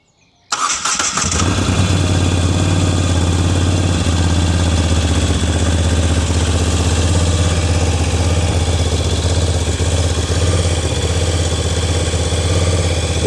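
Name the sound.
motorcycle engine starting and idling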